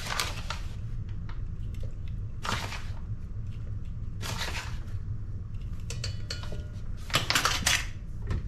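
Dumpling dough with baking powder is mixed in a bowl with a utensil, producing bursts of scraping and clinking against the bowl over a low steady background hum, close-up and without talking.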